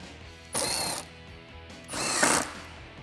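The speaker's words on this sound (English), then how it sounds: "Then we can thread our 10mm bolt all the way through." A tool ratchets a 10mm bolt through a clamp on a Flowmaster Delta Force cold air intake in a Jeep Wrangler JK, in two short, close bursts of clicking separated by a pause.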